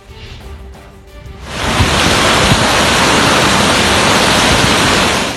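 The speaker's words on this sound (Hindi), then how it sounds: "कराची में अचानक बादल आए और तूफानी हवाओं के साथ बरस पड़े" Heavy rain driven by stormy winds in Karachi, a loud, dense, steady roar of downpour and gusts that swells after a quieter opening and holds constant to the end, with no voices.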